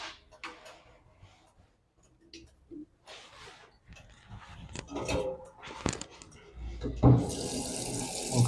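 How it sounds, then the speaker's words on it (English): A kitchen tap fills a pot with water for pasta, a rushing broadband pour swelling loud toward the end after scattered quiet clatter and a few brief voice bits earlier. "I'm gonna put some water in the pot"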